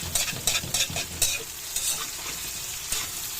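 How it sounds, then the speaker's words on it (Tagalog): Tofu frying in a pan, a loud close sizzle with bursts of crackling spatter and pops over a steady hiss. "Aking piniritong ng tokwa."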